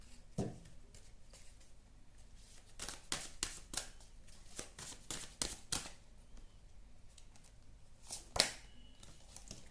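Tarot cards being shuffled and handled, a run of crisp riffling slaps and flicks in quick succession with quieter gaps, close and fairly soft, without any talking.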